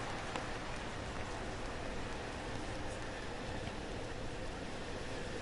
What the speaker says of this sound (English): Rain is getting a little bit steadier.